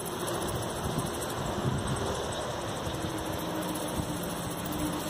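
Steady north wind gusting over 30 rushes and buffets the microphone with a low, continuous roar and no other sounds.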